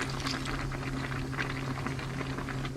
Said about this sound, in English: So I'm going to put here cold water,